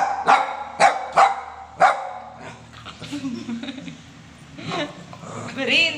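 A dog barks four times in quick succession, sharp and close, then people talk over a busy background.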